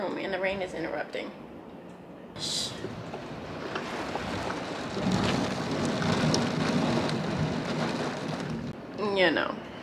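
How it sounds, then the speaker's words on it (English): Steady rain falls outside a bedroom, a continuous close wash of drops and patter that builds midway, with a voice speaking briefly at the start and end. "the rain is interrupting"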